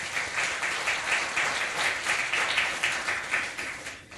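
A congregation at a Korean Won Buddhist temple gathering gives a steady round of applause, dense clapping rolling on for several seconds before tapering off at the end, with no talking.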